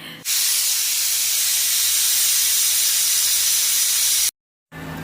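A pressure cooker with mutton inside vents steam in a loud, continuous hiss that holds steady for several seconds, cuts off briefly, then resumes, close up with no talk.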